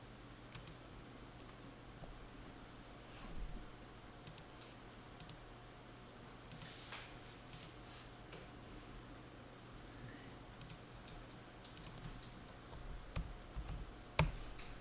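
Keyboard keys and mouse buttons click sporadically during computer accounting work, with soft isolated taps spread across the stretch and a louder cluster near the end over a low steady hum.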